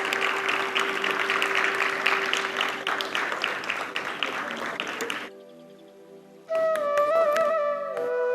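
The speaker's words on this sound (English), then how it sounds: "Let's put our hands together and welcome Miss M. Shweta Reddy" A college day audience applauds a prize winner with broad, sustained clapping for about five seconds, then it fades and a musical tone with sustained notes takes over.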